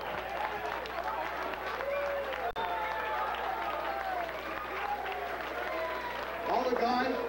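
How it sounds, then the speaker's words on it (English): A wrestling crowd on its feet applauding in an ovation, heard as steady, dense clapping and cheering throughout, with someone speaking over it. "you guys should stand up and give yourselves an ovation"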